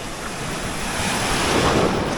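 Atlantic ocean surf at Cercal do Alentejo, a steady broadband roar of breaking waves mixed with wind buffeting the microphone, continuous and close.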